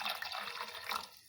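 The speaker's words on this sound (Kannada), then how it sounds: "ಇನ್ನೊಂದು ಸ್ವಲ್ಪ ನೀರು ಹಾಕಿ" Water pours into sambar in a pressure cooker, a brief close splashing trickle that lasts about a second and then fades.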